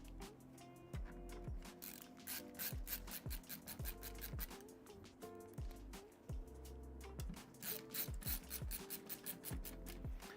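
Small bolts being driven in during a small form factor PC build, a quiet repeated ratcheting and rasping with rhythmic clicks in uneven bursts, close up and without talk.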